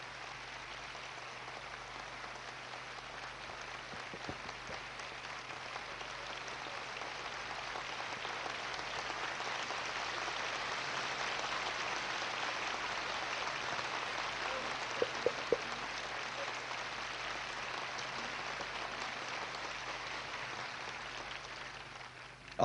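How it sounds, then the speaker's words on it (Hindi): A seated audience at a spiritual initiation ceremony claps at length in thanks to the organisers, a steady wash of many hands throughout with a few sharper claps standing out near the end. "इसके लिए ताली बजा करके हम इनको आभार प्रदर्शित करते हैं"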